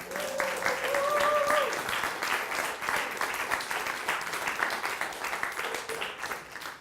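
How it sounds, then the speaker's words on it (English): Applause from a comedy show audience, steady crowd clapping that swells early and then holds at a moderate level, with a couple of brief tonal cues and some voices mixed in beneath. "Round of applause, please"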